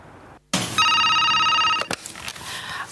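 An office telephone rings with a bright electronic trill that sounds close for about a second, then cuts off, followed by faint room noise and small handling clicks.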